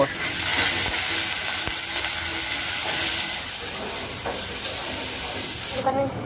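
Cinnamon, cloves, bay leaves, ginger and garlic fry together in a pan for a chicken curry, giving a loud, steady sizzle and hiss with occasional stirring scrapes, and a brief quieter stretch near the end.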